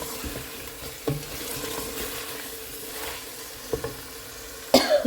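Punjabi handi curry sizzling and roasting in a pan with a steady low hiss, a few clatters of stirring, and a cough near the end.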